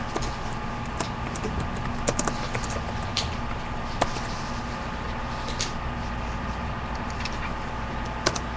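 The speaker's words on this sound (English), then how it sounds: "So we're going to type in lunch and learn." Keys on a computer keyboard tap in sparse, irregular clicks, some in quick clusters, over a steady low background hum.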